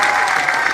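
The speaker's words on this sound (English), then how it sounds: "give Jennifer a big round of applause right there" Audience clapping steadily for a contest winner at a live Q&A event, a dense, loud wash of applause with no break through the whole moment.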